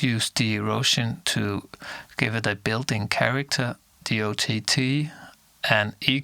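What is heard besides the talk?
No everyday noises stand out.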